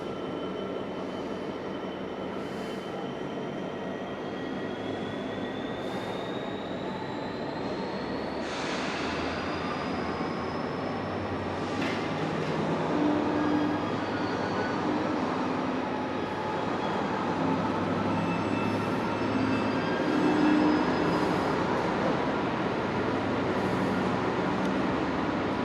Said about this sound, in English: Now departing is GBRF 66307 bound for Moss End